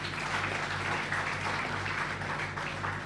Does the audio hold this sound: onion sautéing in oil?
no